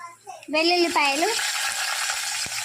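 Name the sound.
tempering spices and peanuts frying in oil in a kadai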